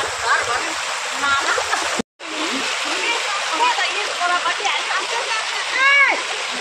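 Floodwater from heavy cyclone rain in the Dooars area of North Bengal rushes across a road like a stream, a steady close splashing torrent with a voice talking over it and a brief cut partway through.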